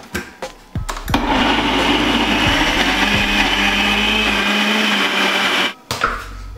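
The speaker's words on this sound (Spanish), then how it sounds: "Y vamos a licuar esta belleza, ¿no?" A homemade protein shake whirs in a blender, a steady loud motor roar running for about five seconds after a few short knocks, then cutting off abruptly.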